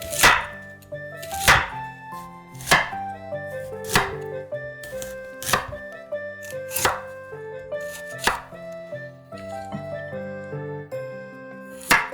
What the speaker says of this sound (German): Dann in feine Streifen schneiden.